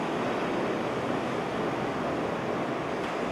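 Ocean waves wash onto a beach in the morning, a steady, close, continuous roar of surf with no pauses and no voices.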